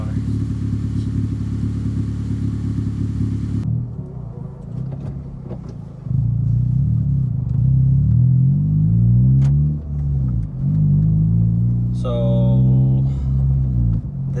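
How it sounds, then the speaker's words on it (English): 2015 Honda Civic Si with an Invidia N1 exhaust idling around 1500 RPM, heard from inside: a loud, deep droning rumble that swells and wavers, with someone speaking over it early on. "this is at very low RPMs, about 1500 RPMs, and it is significantly louder in here."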